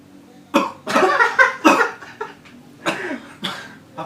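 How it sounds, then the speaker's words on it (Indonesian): A young person coughing after trying a cigarette, several harsh, close coughs in uneven bursts with short gaps between them. "Lo kenapa batuk?"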